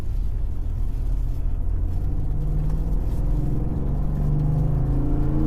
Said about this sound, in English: Transmission shifting nice and strong.